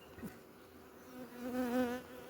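Honey bees at an apiary hive make a faint, brief buzz that swells for a moment and fades, heard close and alone.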